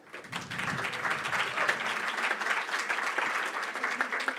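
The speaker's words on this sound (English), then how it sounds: "Applause." An audience at a Jewish anti-Zionist congress claps steadily throughout, a thick even wash of many hands at fairly close range.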